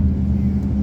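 Steady car traffic on Skyway Stage 3, an elevated expressway in Pasay City, heard from inside a moving car as a loud, continuous low engine and road rumble.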